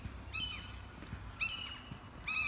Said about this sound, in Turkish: Kuşlar da nasıl ötüyor, martılar geziyor.